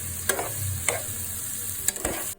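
Spicy vegetables with green and red chilies frying in a pan, a steady sizzle with a few sharp spatula scrapes as they are stirred, close and alone.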